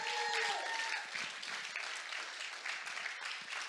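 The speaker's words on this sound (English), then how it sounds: "since we're in the clapping mood, right, just give it up for Tom Pedregon" Church congregation applauding a guest preacher, Tom Pedregon, at a service; dense steady clapping throughout, loudest at the start, with a few brief tonal cheers early on and no clear speech.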